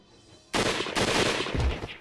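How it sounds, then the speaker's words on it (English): A line of rifles fires together in a Hakuoki video game scene, one loud sudden crack of a simultaneous volley that rolls on with a dense, sustained roar and echo. "The row of rifles fired at once"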